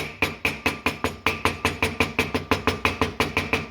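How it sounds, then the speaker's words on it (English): A hammer strikes metal against metal on a Mustang, fifteen or so evenly spaced, ringing blows in a fast steady rhythm, close and loud with no talking. "When you hear that sound where you're hitting metal against metal,"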